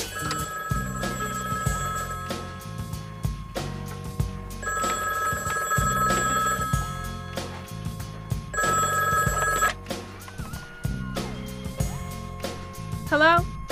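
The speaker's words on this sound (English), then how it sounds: "Answer the phone." A telephone bell rings in repeated bursts over a steady hip-hop beat, each ring pattern recurring several times across the stretch, loud and close in the mix.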